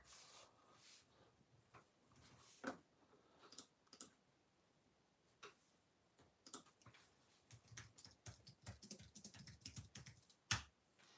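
Rapid keystrokes clatter on a computer keyboard in irregular bursts, with a few sharper, louder clicks standing out, close and alone without talk.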